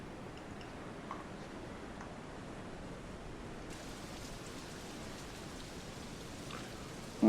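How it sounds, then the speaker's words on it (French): Rain and fog in the submarine game Silent Hunter 3, a steady soft hiss of rainfall that stays constant and fairly faint throughout, with no voices. "avec cette pluie et cette brume"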